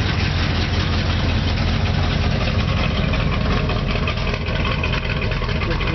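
An engine with a rebuilt carburetor idles steadily, giving a dense, continuous low rumble at constant level throughout, with no revving.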